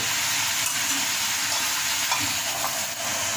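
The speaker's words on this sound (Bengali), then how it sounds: "আমি আর একটু কষিয়ে নেই" A vegetable curry with lentil bori sizzles and hisses steadily in a pan while being sautéed, a close, continuous frying sound with faint stirring scrapes and no talk.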